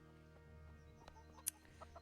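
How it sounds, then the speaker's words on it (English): Chickens in the game Kingdom Come: Deliverance cluck softly in a village scene, a few short calls over a steady low ambient hum, with one sharper bird note standing out. "Chickens."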